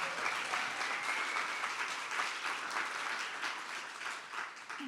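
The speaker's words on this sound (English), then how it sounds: "I just want to give my team a automatic round of applause too" An audience applauding a team at a tech conference keynote, a dense sustained wash of clapping that stays even and fairly loud for the whole stretch.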